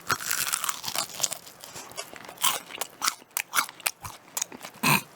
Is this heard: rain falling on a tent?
no